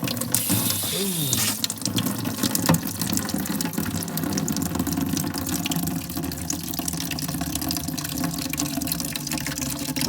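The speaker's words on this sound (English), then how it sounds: "I'm using a bucket to catch this water." Water drains from RV plumbing through a petcock into a bucket in a shop during winterizing, a steady close splashing stream that runs continuously with a few clanks at the start.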